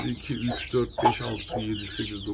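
Bantam Cochin chickens in a coop give a busy chorus of close, overlapping clucks and throaty murmurs, several birds calling at once over a brief span.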